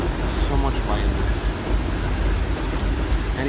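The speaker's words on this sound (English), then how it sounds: "And the thunder is getting so loud." Heavy rain pours steadily during a severe August thunderstorm in New York City, with deep rumbling thunder rolling underneath, loud and continuous throughout.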